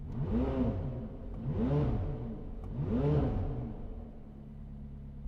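A McLaren sports car engine, cold in -10°C winter weather, revs three times in quick succession, each rev swelling then falling back, close and loud, settling to a steady idle hum afterward.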